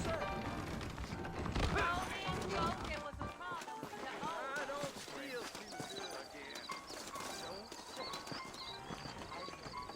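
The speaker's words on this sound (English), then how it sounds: "I got the horses saddled up and ready out front" Saddled horses clip-clopping along a trail in the Red Dead Redemption video game, steady hoofbeats under a dense mix of game sound, music and voices talking throughout.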